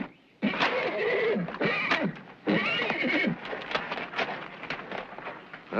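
A wild horse neighs and whinnies loudly in repeated bursts, with some hoof clatter and outdoor noise between calls, up close and without talk.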